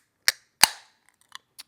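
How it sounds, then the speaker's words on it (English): A drink can, ranch fuel, is cracked open close up: two sharp snaps of the tab followed by a few faint fizzy ticks, with no talking. "Today, while I get my ranch fuel cracked open here"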